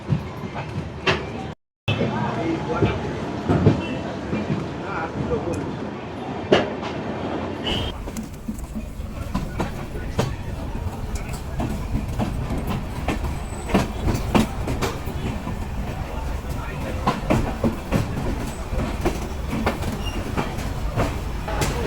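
A train runs on rails on the way into Guwahati, Assam, with steady loud rumbling and rhythmic clickety-clack of wheels throughout, a brief dropout early on, and faint voices in the background.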